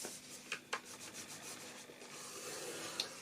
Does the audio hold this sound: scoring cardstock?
yes